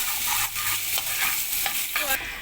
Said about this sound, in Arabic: معلقه من السمنه، ونزلت عليها كده بحبه ثوم حلوين لحد ما ياخدوا لون الاول